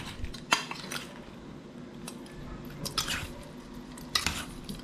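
Utensil scraping and clinking against a pot while stirring paksiw na tawilis, small freshwater sardines simmered in vinegar, with a few sharper knocks standing out over a low steady background.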